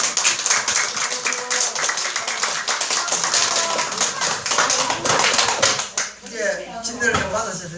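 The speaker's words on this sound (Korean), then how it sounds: "자, 그럼 우리 시간을 위해서 한명의 박수로 또 합시다." A congregation at a Korean baptism gathering bursts into sustained hand-clapping applause, dense and close, tapering near the end as voices and chatter come through.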